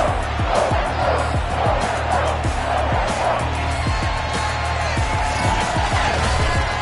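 Stadium crowd noise in a Madden NFL video game before a Patriots versus Chargers kickoff, a steady loud roar with scattered cheering and shouts.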